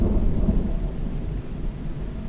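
Thunder rumbles during a heavy night rainstorm over an old village temple, a loud deep rolling roar that swells and lingers under a dense hiss of rain, with no voices.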